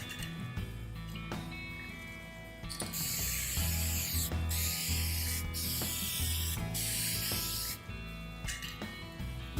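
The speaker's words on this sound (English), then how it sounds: "Spray it first to see what the pattern looks like." A sustained hiss of spray paint on a plastic Ducati Multistrada motorcycle part bursts out in the middle, lasting several seconds with brief pauses, between quieter mechanical clicks and rubbing.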